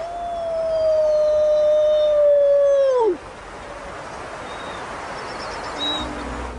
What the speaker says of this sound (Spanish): sus aullidos no obtienen respuesta